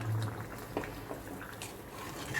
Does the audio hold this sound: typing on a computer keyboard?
no